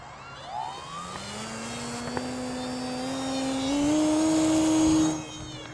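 An electric motor on an ElectroStreak 1.1 m RC glider at about half throttle gives a smooth, tonal whine that climbs steadily in pitch and grows louder before cutting off sharply near the end.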